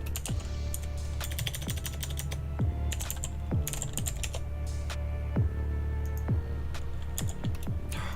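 Rapid computer keyboard typing and mouse clicks, close and fairly steady, over a constant low hum, with no talking.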